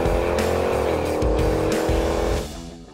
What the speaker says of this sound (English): now it's time to see what 700 horsepower feels like in a Jeep Grand Cherokee